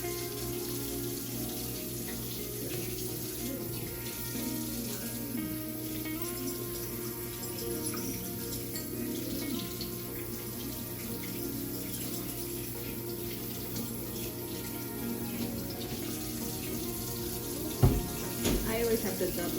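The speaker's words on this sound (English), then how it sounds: "washing the hands." Water runs steadily from a kitchen tap as hands are washed during stuffed-shell preparation, a continuous hiss with a brief clatter near the end.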